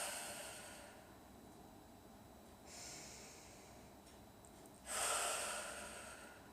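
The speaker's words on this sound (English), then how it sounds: "Breathe in, expanding your ribs outward. Breathe out, letting them collapse in." Slow, deliberate rib-expansion breathing: a quiet drawn-in breath, then a louder, breathy exhale through the nose, close and alone in a hushed room.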